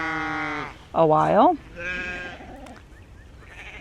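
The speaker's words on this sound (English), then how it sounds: "All right, there's our sheep." Sheep in a farm's bottom field bleat close by: a couple of wavering bleats, one loud and sharp in the middle, with a brief bit of talk and quiet outdoor background.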